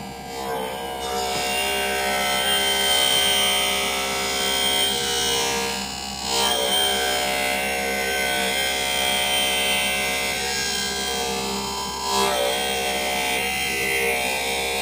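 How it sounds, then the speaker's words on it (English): Machine lens edger grinding an eyeglass lens for a Prada VPR 04Q frame, a steady continuous whirring grind with a few brief shifts in tone, close and fairly loud with no talk. "your lens is finished cutting"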